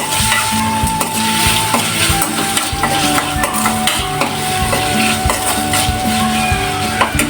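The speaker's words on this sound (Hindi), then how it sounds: "इसको मैं अच्छे से हिलाऊंगी।" Spiced potato filling with green chillies is stirred in a pan, a steady scraping and sizzling with repeated spoon strokes, close and loud, with no voices.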